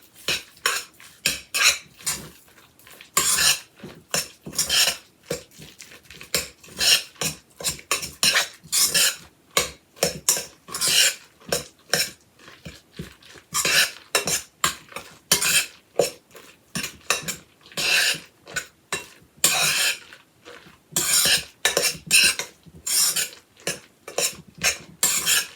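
A utensil clinks and scrapes rhythmically against a bowl in repeated bursts, mixing ingredients for white chicken lasagna, close and fairly loud, with no talking.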